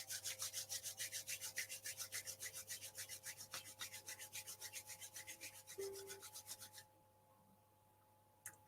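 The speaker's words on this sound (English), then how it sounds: "rub the hands together, get some heat in the palms of the hands" Palms rubbed briskly together in a quiet room, a steady run of rhythmic swishing strokes, about three per second, that stops abruptly after roughly seven seconds, leaving near silence with one small knock at the end.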